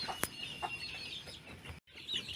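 Free-range village chickens cluck in a rearing pen at a farm, with a few soft clucks and short calls spread over a brief stretch amid light barn noise.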